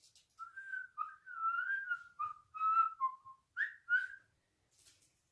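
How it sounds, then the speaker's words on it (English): A person whistles a short melodic tune alone in a quiet room, a series of clear, fairly soft tones with brief pauses between phrases and no talking. "Can you whistle?"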